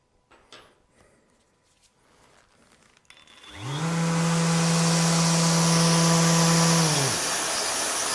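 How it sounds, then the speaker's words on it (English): A Festool ETS EC 150 eccentric sander with its pad refitted without the brake spins up after a few soft handling clicks, then runs as a loud, steady whir with a clear hum before winding down and coasting near the end. "you can now see that this will spin for a long period of time."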